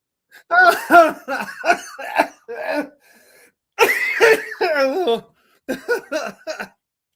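Repeated harsh coughing fits close to the mic, several bursts separated by short pauses, mixed with throat clearing and a bit of wheezy laughter.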